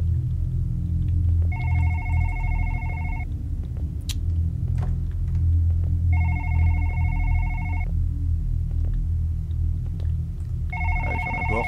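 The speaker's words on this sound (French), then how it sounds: "on va répondre à ce foutu téléphone qu'il arrête de sonner une bonne fois pour toutes." A telephone in the horror video game One Late Night rings in three long double-tone bursts separated by pauses, over a constant low ambient rumble.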